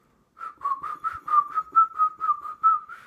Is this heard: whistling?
yes